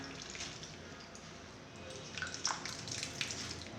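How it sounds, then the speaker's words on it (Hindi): Bitter gourds are washed by hand in clean water in a kitchen, giving soft continuous sloshing and splashing with a few brighter drips and splashes toward the end, close and moderately quiet with no talking. "अब मैं इनको साफ़ पानी में धो रही हूँ।"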